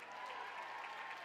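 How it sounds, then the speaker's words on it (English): Audience applauding at a dance convention awards ceremony, a faint, steady patter of clapping from a crowd heard at a distance. "Let's give them a round of applause."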